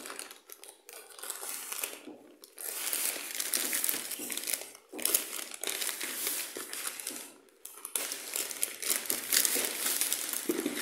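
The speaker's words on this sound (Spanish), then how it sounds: "vamos a proceder a abrirlo, a ver qué hay aquí adentro. Cortamos, cortamos." Shipping package for a Transformers figure being cut open and unwrapped, with bursts of crinkling plastic and rustling cardboard up close, broken by brief pauses.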